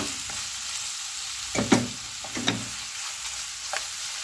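Small pieces of chicken breast sizzle and fry in a pan while being stirred, a steady hiss broken by a few scraping and clinking stirs, close up and without talk.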